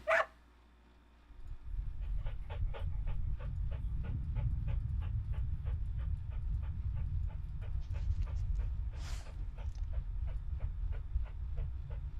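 Num Num, a search dog in The Dream of a Cock, panting steadily and close up after a sharp opening sound and a brief quiet gap, with a faint ticking rhythm underneath.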